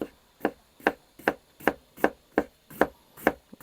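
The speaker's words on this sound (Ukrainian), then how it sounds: "Капустину хрясь. І погнали нарізати." Cabbage being sliced thinly with a knife on a board for borscht, about nine sharp, evenly spaced chops in a steady rhythm, close and clear with nothing else behind them.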